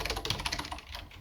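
Typing on a computer keyboard while writing HTML meta tags: a quick, steady patter of close key clicks, fairly soft, with no talk.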